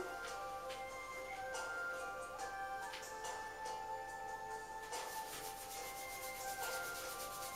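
Hands rubbing and massaging bare feet and up the inner legs, a soft continuous friction with brisk strokes, close and quiet over faint background tones.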